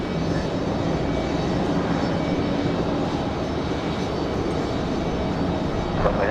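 Airliner in from Cleveland at Raleigh Durham airport, a sustained broad engine roar with wind buffeting, steady and fairly loud throughout.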